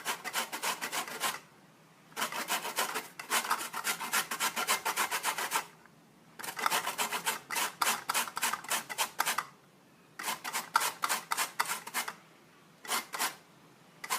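Lemons grated by hand for zest, a steady run of dry rasping scrapes in bursts separated by short pauses, close and clear, with no talking.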